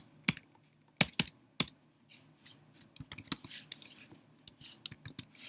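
Code typed on a computer keyboard for a Python tic-tac-toe game: sharp, close key clicks in irregular bursts, sparse at first, then faster and denser, with no talking.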